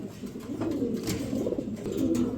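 Giant homer hen pigeon giving low, soft coos over a steady murmur of background noise, faint and close, with no talking.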